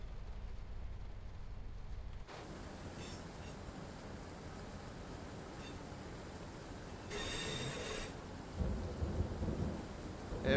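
Heavy rain and rolling thunder from a thunderstorm in Train Sim World 4 on a UK route, a dense, constant downpour hiss with deep rumbles that swell louder near the end, and no voices.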